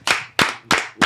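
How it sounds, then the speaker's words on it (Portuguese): Applause for podcast guest Flávio Tavares, a visual artist: four sharp hand claps at a steady, fairly quick rhythm, close and clear, with no talking. "vamos aplaudir aqui o Flávio"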